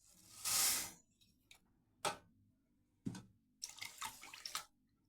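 Water is poured from a bowl into a kadai holding sugar for syrup: a short, soft splashing pour, then a few faint knocks and clinks of utensils in a quiet kitchen.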